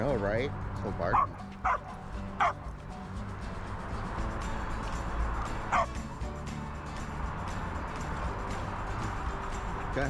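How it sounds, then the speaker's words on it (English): A dog gives several short barks and yips in the first few seconds, fairly close and mixed with people talking, then goes quiet under continued conversation. "So barking."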